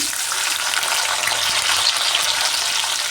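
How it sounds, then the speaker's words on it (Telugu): Onion and green chillies frying in a pan, a steady, close, dense sizzle that holds evenly throughout with no talking. "ఫ్రై చేసుకున్నాను ఉల్లిపాయ బాగా వేగిపోయింది"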